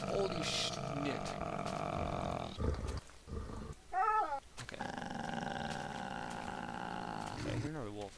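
A lion roars in Minecraft: short, rough, wavering growl-roars come through, one loud burst in the middle and another near the end, over steady game music, with someone speaking briefly.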